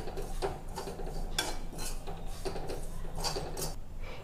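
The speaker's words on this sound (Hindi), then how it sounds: "एक मिनट तक हम ड्राई फ्रूट्स को भी सूजी के साथ भून लेते हैं" Dry fruits and semolina are dry-roasted in a pan, with rhythmic scraping and clinking strokes of a spoon against the metal repeating about every half second, close and fairly loud, with no speech.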